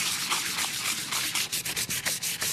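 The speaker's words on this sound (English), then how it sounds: "So what grade sandpaper is this? This is about 150." An old clock is sanded by hand with 150-grit sandpaper, producing close, continuous rasping strokes in a quick back-and-forth rhythm with no talking.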